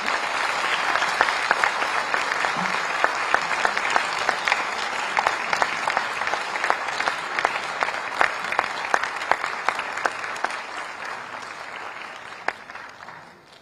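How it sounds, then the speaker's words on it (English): Sustained round of applause from an auditorium audience attending a spiritual talk, dense steady clapping with sharper individual claps throughout, holding strong for about twelve seconds before tapering off at the end. "Please give a huge round of applause."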